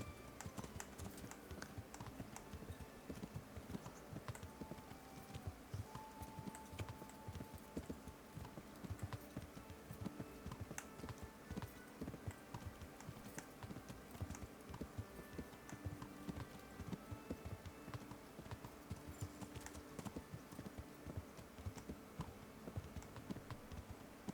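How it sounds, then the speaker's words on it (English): Rapid, continuous clip-clop of horse hooves at a steady trotting rhythm in the video game Kingdom Come: Deliverance, fairly faint, with no talking. "Alright, we're riding the horse."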